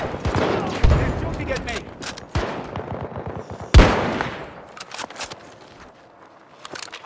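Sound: gunfire in the video game Battlefield 2042

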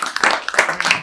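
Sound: applause

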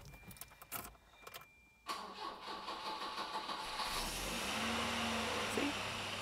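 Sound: car engine starting and running, shaking on bad engine mounts

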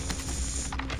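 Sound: weapon reloading in a video game, Call of Duty Rebirth Island

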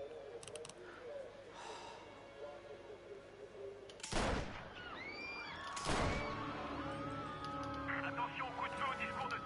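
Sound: gunshots in a video game

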